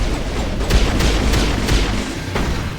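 Gunfire after an order to open fire, a rapid run of booming shots and bursts close and loud, several distinct hits standing out over a dense, rumbling wash.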